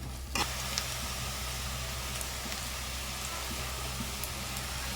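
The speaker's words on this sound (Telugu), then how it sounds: "ఇప్పుడు కొద్దిసేపు బాగా ఆనియన్స్ వేగనివ్వాలి" Onions fry with green chillies and curry leaves in a pan, a soft continuous sizzle heard up close, with a small clatter of stirring near the start and no voices.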